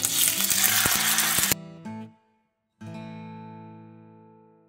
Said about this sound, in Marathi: आता दुसरे पॉम्फ्रेटूय आमी फ्राय करूया तेल गरम जाले पॉम्फ्रेट घालया